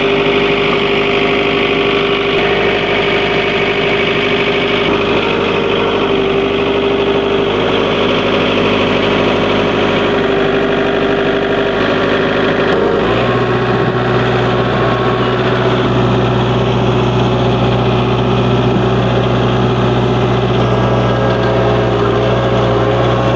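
A tractor engine idles steadily and loudly nearby, a constant low rumble with vibration and a slight shift in pitch partway through, with no talking.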